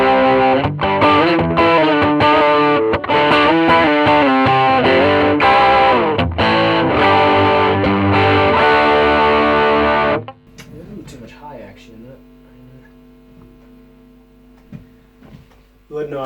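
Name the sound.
electric guitar on bridge pickup with overdrive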